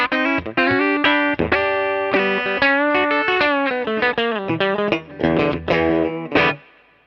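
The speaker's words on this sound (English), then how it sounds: "we'll just try a little bit of reverb there first of all" An electric guitar plays through a Minson M8 pedal with its Bunyip reverb switched on. Distorted chords and single notes are picked in a lively phrase, and the notes decay with a reverb tail.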